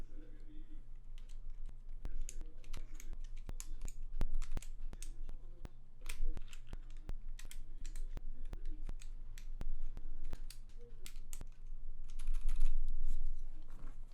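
A KBD67 MKII mechanical keyboard with a Sorbothane plate mod clacks under fast, close typing, with dense irregular keystrokes throughout and a voice speaking faintly underneath at times.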